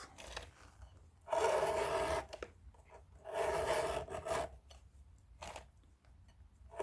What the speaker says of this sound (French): Et quand je lime, j'essaie de rester le plus parallèle possible aux traits qui sont juste dessous